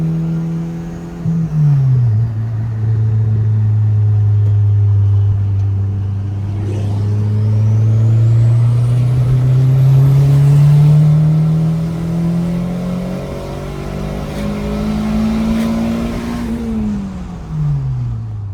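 A fully built 500 HP turbo Honda Civic GSR running 93 pump gas pulls away, its engine rising and falling through loud, sustained revs with climbing pitch and turbo whir, heard up close from inside.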